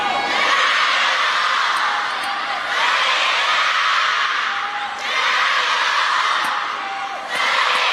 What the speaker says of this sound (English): The crowd prepare themselves to go absolutely silly.